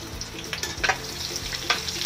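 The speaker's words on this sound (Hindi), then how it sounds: "1/2 चम्मच हम इसमें जीरा भी डालेंगे" Cumin seeds sizzle in hot oil in a pan that already holds green chillies and curry leaves over lowered gas, a steady close frying hiss with a few brief crackles and stirring sounds over about two seconds.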